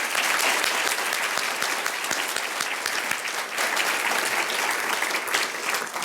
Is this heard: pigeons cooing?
no